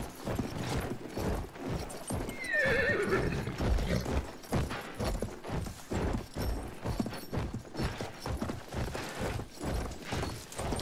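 A horse in the video game Battlefield 1 gallops in a steady rhythmic clip-clop and lets out a loud whinny, with combat sounds faint in the background.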